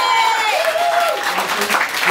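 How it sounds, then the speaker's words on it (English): An audience at a magic show applauds a volunteer, a dense patter of clapping that carries on under the magician's voice speaking over it. "Let's give her a big hand of applause"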